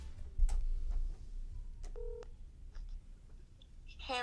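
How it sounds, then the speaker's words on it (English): A phone keypad dials a call, its short touch-tone beeps clustered near the middle and again at the end, over low room noise and faint voices in the background. "let's call Janelle and see what she's got to say"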